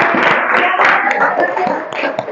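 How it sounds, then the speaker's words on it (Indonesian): A classroom of students claps hands together at the end of a history lesson debate, a dense, steady burst of many overlapping claps lasting throughout, fairly loud with a faint voice mixed in. "Tepuk tangan dulu untuk semuanya"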